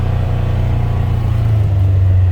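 A Polaris side-by-side on a test drive gives a loud, steady low engine drone close up, its pitch rising slightly toward the end.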